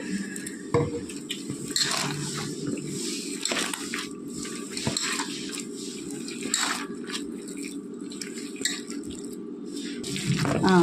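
Onion pakoda batter being mixed by hand in a bowl with a little water, soft wet squelching and stirring with light clinks of utensils, fairly quiet and steady.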